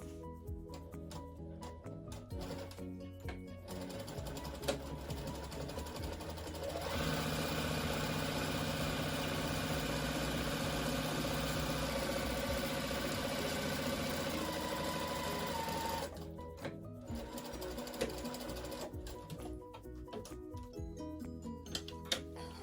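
A sewing machine stitches a seam on a pillow cover with a faint, steady mechanical whir that grows louder and busier during a long middle stretch, then settles back to a quieter hum.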